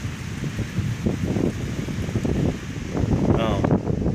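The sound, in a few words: rain and wind as storm arrives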